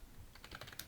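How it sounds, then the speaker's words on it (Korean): Typing on a computer keyboard, a quick run of soft close key clicks lasting under a second, quiet with no talk. "5번 타이핑"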